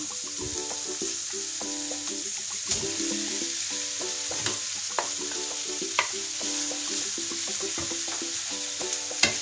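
Potatoes tipped into a pan of fried onion, cumin and spices, giving a steady close sizzle with repeated stirring scrapes and clinks throughout, no voices.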